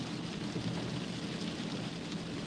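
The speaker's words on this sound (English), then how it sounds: "it's not a heavy rain. It's more like a misty rain." Light misty rain falling on a car while driving, a steady soft hiss of drizzle and road noise with no distinct drops or voices.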